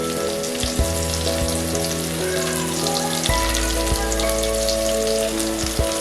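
Garlic paste and ginger-chili paste sizzle and fry with browned onions in a pan for a Bengali country chicken curry, a steady close crackle with a few louder spits and no talking.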